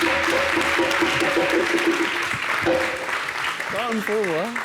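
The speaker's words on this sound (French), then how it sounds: "Est-ce qu'on peut les applaudir, vraiment?" Audience clapping fills the space in a dense, steady wash, with voices speaking and calling out over it.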